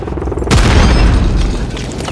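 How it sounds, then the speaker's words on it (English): A loud, close bombing-run explosion in the video game Call of Duty: Modern Warfare III: one deep, booming blast that erupts suddenly and rumbles on heavily for over a second. "Vulture 6-1, inbound for bombing run."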